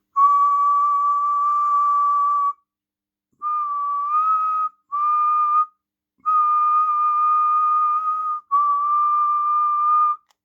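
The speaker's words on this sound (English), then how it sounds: "And apologies for the whistling" A person whistles a single steady held pitch into the microphone of a Cobra 148GTL-DX CB radio keyed on AM, five sustained notes broken by short silent gaps, loud and clear with no talking.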